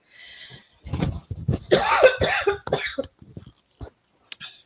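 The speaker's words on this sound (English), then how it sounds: "Sorry about all the coughing." Several harsh coughs and throat clearing close by, in bursts separated by short pauses, with no talking.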